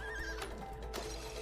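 A horse whinnies in a quick, wavering call over a constant low hum, with a couple of soft thumps. It sounds faint and somewhat distant, with no voices.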